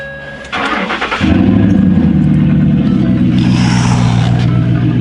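A Ford F150 truck engine, unrun for a week after a fuel pump repair, cranks briefly, catches, and roars to life, then settles into a loud, rumbling idle with a rise in revs.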